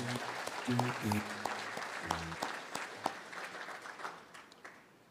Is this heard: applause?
yes